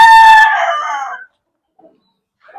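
A fighting rooster lets out a single loud, close crow that trails off after about a second, followed by near silence and a faint cluck at the end.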